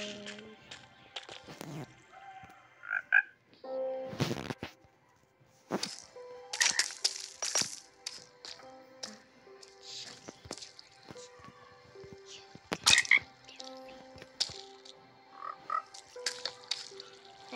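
Frogs croaking in the video game Minecraft, scattered short croaks and soft clicks spread across the stretch over a quiet background, no voices.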